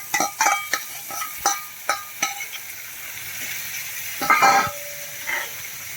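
Spices and dried cowpeas sizzle and crackle in hot oil, with a string of sharp spatters up close and a louder burst of frying near the end, alone without talk.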